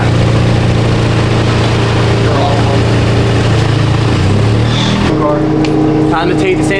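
A stance car's engine idles steadily and close by, holding a low even drone, with a brief rise in pitch near the end as it settles again; voices talk faintly beneath it.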